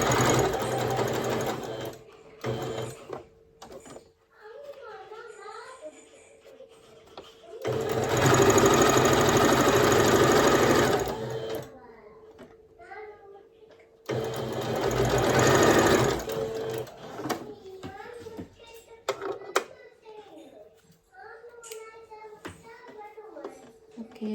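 A sewing machine stitches a shirt in three loud, close bursts of rapid mechanical whirring, separated by pauses in which someone talks.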